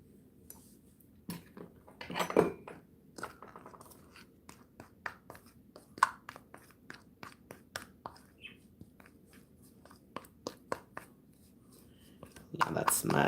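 Metal tablespoon scooping neem powder into a bowl, producing a series of soft, scattered scrapes and light clinks close by, with a louder rustling burst near the end.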